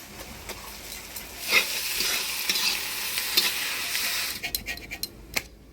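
Chopped tomato hits hot oil with browned onions in a pan, sizzling and frying steadily while a utensil stirs through it in a few scraping pushes, with no talking.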